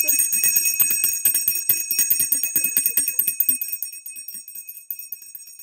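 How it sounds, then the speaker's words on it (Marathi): A small hand bell rung rapidly and continuously during a Gauri puja, bright and close, slowing into a few scattered rings before stopping. "एक घंटी वाजव"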